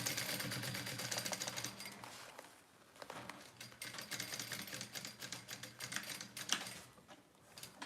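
A sewing machine stitches down the sides of fabric in fast, even, clattering bursts with brief pauses between runs, fairly quiet and close, with no voices.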